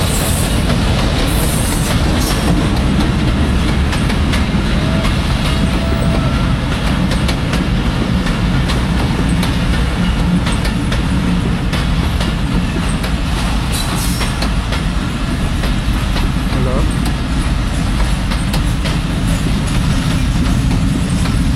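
A train approaching near Bheramara station, a loud continuous rumble and rattle of wheels on rails that stays heavy and close throughout, with no talk.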